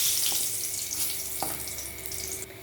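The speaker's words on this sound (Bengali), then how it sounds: "ফোড়নে দেবো জিরে, শুকনো লঙ্কা আর একটু গরম মশলা।" Cumin seeds, dry red chilies, garam masala and bay leaves sizzle in hot oil, a continuous bright hiss with a couple of soft pops, close and steady with no talking.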